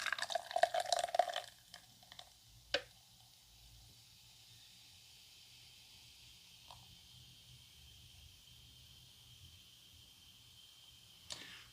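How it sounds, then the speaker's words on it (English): Corona Premier beer poured into a glass, a short liquid splash and trickle near the start, then fading to near silence with a couple of faint clicks. "let's get that pour on"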